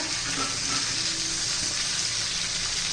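A loud, even hiss of chicken frying in hot oil fills the pan throughout, steady and close with faint stirring beneath.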